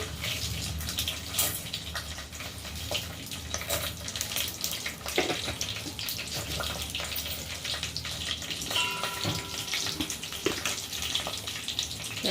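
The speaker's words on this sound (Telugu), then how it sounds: "నెయ్యి నెయ్యితో తాలింపు వేస్తున్నా" Garlic, dried red chillies and seeds tempering in hot ghee for sambar, giving a steady broadband sizzle and crackle with occasional stirring clinks, continuous and fairly close throughout with no talk.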